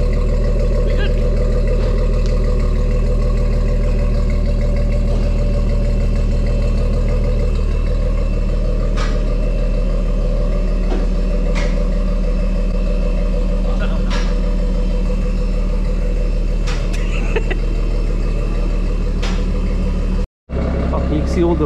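A big-turbo BMW M140i, freshly built, runs steadily at a low rumbling idle that holds through the clip, with a few faint higher clicks on top and a voice talking over the engine.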